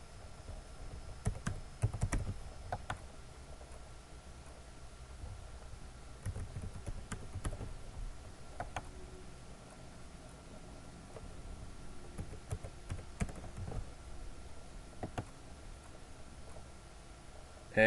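Computer keyboard clicks in quick, irregular bursts of typing, faint and close, with short pauses between runs of keystrokes.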